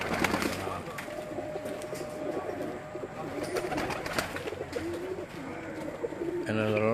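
Domestic pigeons at a home loft in Mirpur, Azad Kashmir, coo steadily in the evening, with soft rolling calls layered together and faint voices and background activity around them.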